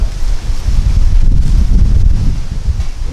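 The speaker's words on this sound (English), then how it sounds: "she's windy at my house" Wind gusts outdoors at a home during a yoga session, a steady broad rumble buffeting the microphone throughout, loud and continuous with rustling texture and no talk.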